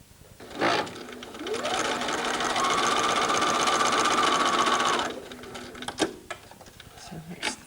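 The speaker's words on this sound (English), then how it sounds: "I'm going to pop the whole thing under the machine and do a little seam." A domestic sewing machine runs a steady continuous burst of stitching for about four seconds while a seam is sewn on a Care Bear, with brief handling clicks and rustles before and after.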